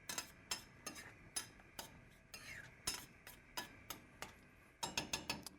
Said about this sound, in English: I'm going to give this sauce back here a stir.